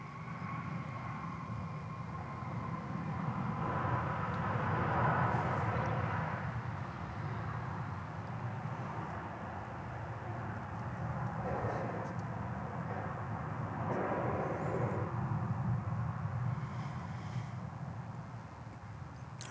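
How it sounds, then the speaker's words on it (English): An American Airlines Airbus A321 departing DFW airport, heard as a distant jet engine roar that swells and fades over about twenty seconds. "That aircraft there on the left of your screen is departing us for Los Angeles. It's flight 1039 American Airlines. And Airbus A321."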